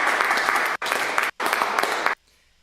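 Loud, dense clapping from a group at a New Year's Eve livestream event, arriving in three bursts split by sharp gaps before a sudden drop to near silence.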